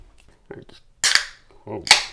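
A can of hyper-carbonated pastry sour beer cracked open, two sharp, bright pops, each followed by a short fizzing hiss, close and loud after a few faint handling clicks.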